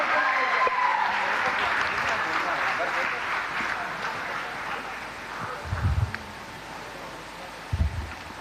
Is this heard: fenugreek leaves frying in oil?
no